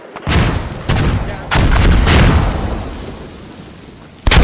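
Mortar rounds in a squad-based military shooter game: several heavy booming impacts in quick succession, loud and close, with long rumbling tails between them and a fresh blast right at the end.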